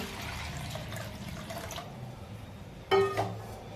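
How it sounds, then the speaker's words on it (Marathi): A quiet watery rush of water being poured into a pressure cooker, faint and brief, ending with a sharp metallic clink. "आणि गरजेप्रमाणे पाणी टाकून"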